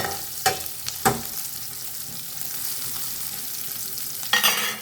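Onion, green chilies and dried chilies fry in a pan with a constant loud sizzle, broken by a couple of clanking stirs early on and another scrape near the end.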